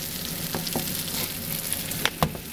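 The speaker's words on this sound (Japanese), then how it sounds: "これで焦げ目をつけまして" A hamburger steak sears in a frying pan, a loud, close, steady crackling sizzle with a few sharp clinks and scrapes from a utensil near the end and no voices.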